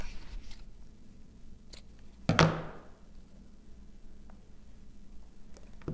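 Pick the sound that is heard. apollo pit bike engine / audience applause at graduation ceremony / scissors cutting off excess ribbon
scissors cutting off excess ribbon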